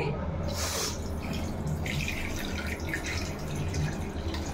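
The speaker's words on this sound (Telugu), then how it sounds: "ఇప్పుడు చూసేయండి, చింతపండు పులుసు పోసుకుంటున్నాను" Squeezed tamarind water poured for fish curry, a steady close liquid splash and trickle running throughout with faint drips, no talking.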